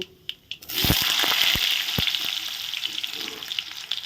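Potato pieces land in hot oil seasoned with black cumin for an egg ghugni and burst into a loud, steady sizzle, with a few sharp clinks and stirring scrapes at the start, close by, with no talk.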